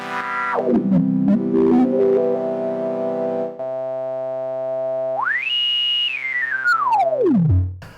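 Digital synthesizer filter tones, gritty with aliasing, sweep down steeply, hold a steady buzzy pitch, then glide up high and fall back in one long swoop; loud, synthetic and alone without speech.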